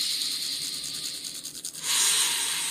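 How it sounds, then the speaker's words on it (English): Fingernails rubbed vigorously back and forth against each other, a close, steady dry scratching hiss that swells louder near the end, with no voices. "basically just rubbing your fingernails together back and forth"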